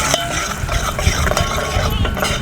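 Crushed peanuts being stirred into a hot pan with green chilies, a continuous loud scraping and rustling of a spoon against the pan over a light sizzle, close by and without speech.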